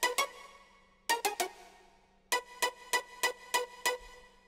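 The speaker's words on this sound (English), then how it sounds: "so I'm using this Artificial Pizza patch from Halion, which sounds like this." Plucked string-like synth notes from the Halion Artificial Pizza patch, sharp and bitey, played in short groups: two notes, a quick triplet, then a run of six evenly spaced plucks, each decaying fast and heard alone.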